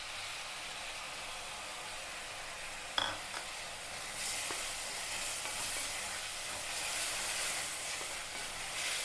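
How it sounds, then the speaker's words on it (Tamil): Tomatoes sautéing with ginger and garlic for a jackfruit gravy, a soft hiss with a sharp clack partway through, then a louder steady sizzle and occasional stirring scrapes. "தக்காளி சேர்த்து நல்லா வதக்கி விட்டுடலாம்."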